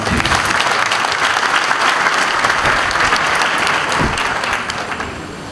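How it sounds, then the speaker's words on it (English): Loud, dense applause from the audience at a military cadet passing-out and commissioning ceremony, greeting the special guest of honor, sustained and fading slightly near the end. "A round of applause for the special guest of honor."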